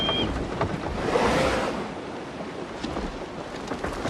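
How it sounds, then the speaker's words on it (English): Heavy rain in Assassin's Creed Shadows falls as a dense, steady wash of noise, close and enveloping, with a slight swell near the middle and no talking. "Just listen to that rain."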